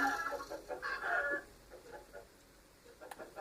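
Chickens in a Minecraft chicken farm cluck in a few short, quiet bursts close together, then taper off into near silence with a faint blip near the end.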